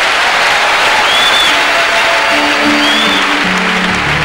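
A church congregation applauds in loud, steady, continuous clapping that fills the hall, with faint voices and a few sustained tones rising beneath the applause.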